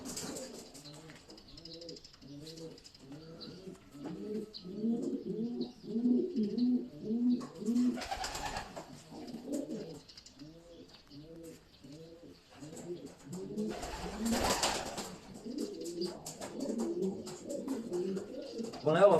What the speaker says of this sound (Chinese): 那么这只雌呢还是一只比较不错的雌鸽。